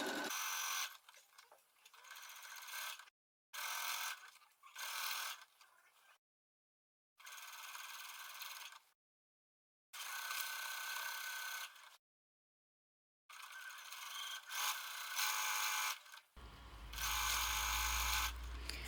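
A sewing machine runs a seam one centimetre from the edge of a bodice and skirt, whirring in several bursts of a few seconds each with short pauses, close and clear, ending in a low thump.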